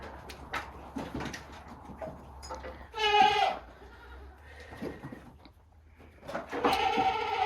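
Goats bleat during hoof trimming on a homestead, two loud nearby cries standing out amid ongoing talk, shuffling and handling noises.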